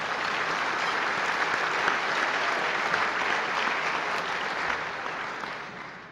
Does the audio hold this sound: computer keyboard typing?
no